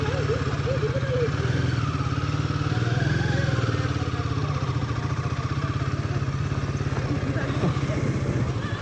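A brand-new Royal Enfield Himalayan 450 motorcycle rides with a steady, close engine thrum and pulsing exhaust beat, rising slightly in pitch midway, with voices talking faintly over it.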